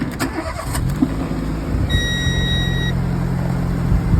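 A used car's engine starting up, a quick cranking burst then catching and settling into a steady idle close by, with a brief tonal whine partway through.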